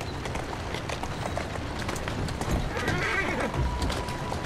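A horse gallops in Assassin's Creed Syndicate, its hooves clip-clopping in a rapid, continuous rhythm through a busy street scene, with a brief neigh near the end.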